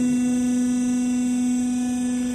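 A machine runs at low speed with its hydraulic lift engaged, giving a steady, unbroken electrical hum with a strong low drone. Close and constant, with no voices.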